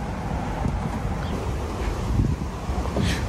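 Gusty wind buffets the microphone with a constant low roar at an Ionity electric car charging station, no voices present.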